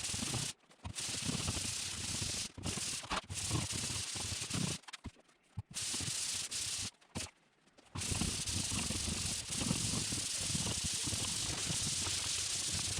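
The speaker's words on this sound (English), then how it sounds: "These sanding blocks are the best thing I have found for the corners." A sanding block works drywall corners in a garage, a steady coarse scrubbing rasp with a few brief pauses between runs.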